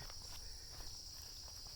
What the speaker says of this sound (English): you can hear crickets and some of the cicadas in the background.